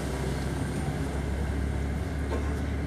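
Steady low rumble and drone of a Lubuskie LINK railbus (SA139-003) under way, captured from inside the driver's cab, loud and continuous with no talk.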